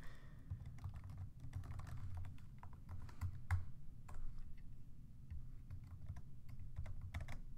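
Quiet, steady typing on a computer keyboard while writing a Java program, a continuous run of soft irregular key clicks with no talking.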